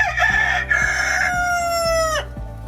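A rooster crows loudly and close by at a backyard chicken nesting box, one long drawn-out call ending abruptly, over a background of repeated low hen clucks.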